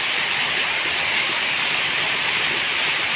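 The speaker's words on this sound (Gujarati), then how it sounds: "ગામડાની અંદર સતત વરસતા વરસાદમાં" Steady, dense hiss of rain falling without a break on a village, even and moderately loud throughout, with no voices or other sounds.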